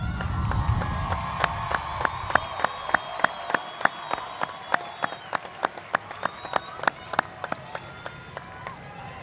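Audience at the Bellflower High School 2014 graduation claps for the teachers, a fairly soft, steady round of scattered individual hand claps with a light crowd murmur beneath.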